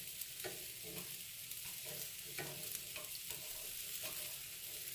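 Garlic cloves roast in a pan for salsa with a soft, continuous sizzle and occasional light scraping or stirring taps, quiet and steady throughout.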